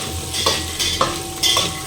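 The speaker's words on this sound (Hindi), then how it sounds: "इसी में सारे मसालों को डाल के भून लेते हैं।" Potato and soybean curry with spices fries in a pan, a steady sizzle broken by a few distinct scraping stirs of a utensil, close and fairly loud with no voices.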